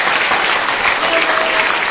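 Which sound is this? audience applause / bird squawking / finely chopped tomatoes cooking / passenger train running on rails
audience applause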